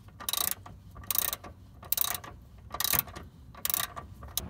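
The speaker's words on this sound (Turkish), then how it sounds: "Amortisör üst civatasını da yerine takıp 62 Nm torkla sıkıyorum." A torque wrench ratchets in five evenly spaced clicking bursts while tightening the upper shock absorber bolt on a Renault Megane 3 / Fluence rear suspension, close and fairly quiet.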